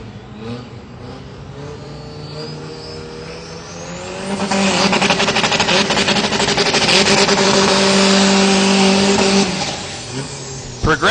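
A drag racing car makes a run on the industrial injection side at Texas Motorplex during the NHRDA World Finals. Its engine roar swells after a few seconds, stays loud and steady, then fades, with an announcer talking over it.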